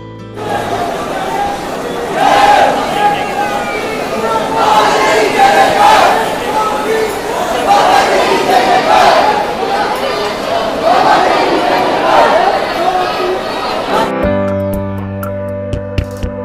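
Dense crowd of pilgrims at the Khatu Shyam Ji temple, with steady loud babble of many voices and chatter filling the space, ending in an abrupt cut to a tonal sound.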